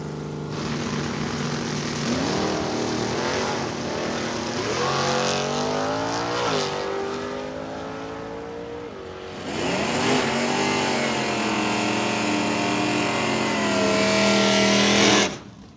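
Drag race launch at a stock and super stock class racing event, a stock automatic Malibu wagon against an '87 Camaro: loud sustained engine roar with rising revving sweeps, a second surge of acceleration midway, no talk.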